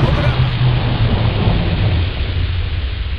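Thunder rumbles steadily through a summer lightning storm in Western Pennsylvania, with rain pouring throughout and a loud, continuous low roll that eases only slightly toward the end.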